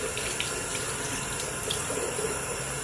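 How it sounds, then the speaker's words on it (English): Tap water runs steadily into a sink for wetting the face during a morning wash, a close, continuous splashing hiss with no talk. "So I always start off by wetting my face."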